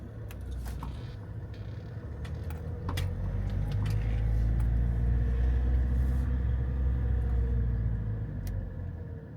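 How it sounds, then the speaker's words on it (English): A Ford Kuga driving on a road after a rear wheel speed sensor replacement, heard from inside as a steady low engine and road rumble that swells gradually, with a few faint clicks and knocks. "I'm just going for a longer drive now."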